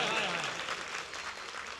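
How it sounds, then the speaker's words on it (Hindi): Applause fills the crowd at an All India Mushaira poetry gathering, starting strong and thinning slightly. A voice speaks briefly at the start. "मल्लावा वालों, आपकी अब तालियां चाहता हूं।"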